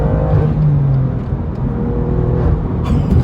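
A BMW M2 CS with a straight-pipe exhaust rumbles close and loud, a deep steady drone that rises and falls slightly as the engine is held.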